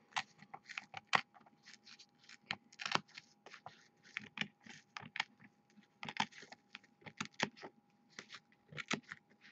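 Scissors snipping through looped crochet yarn to cut it into even strands for fringe hair, a steady series of short, close, crisp clicks and snips with no talking.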